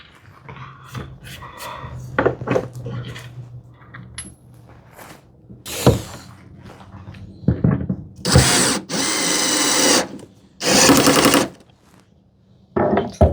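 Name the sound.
power drill driving screws into wood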